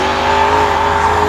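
Mercedes E55 AMG with a naturally aspirated M113 5.4-litre V8 and a manual swap gives a loud, steady, close engine drone, held at high revs for a brief moment.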